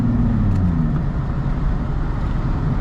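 Car with a Nissan VQ engine driving, a loud steady engine drone with low rumbling exhaust tone that holds constant throughout, close and continuous with no talking.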